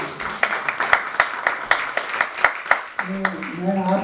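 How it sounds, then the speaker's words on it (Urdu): Audience applause at a South Asian festival talk in London, heard as a run of rhythmic, fairly loud claps that then gives way to someone speaking. "ذرا تالیوں کی گونج کی آواز آنی چاہیے"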